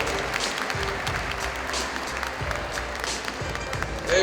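Audience applause for a kindergarten performance at an end-of-year show, sustained crowd clapping with a few louder bursts, steady and fairly close, with faint murmuring underneath.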